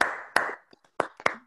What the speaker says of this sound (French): je vous demande d'ouvrir vos micros pour applaudir Sophie Dubuis